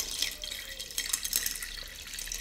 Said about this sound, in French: nous allons déposer de l'eau